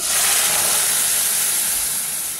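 Hot tempering of spices with asafoetida poured onto cooked dal with English spinach and raw mango, giving a loud, close burst of hissing sizzle that slowly tapers off.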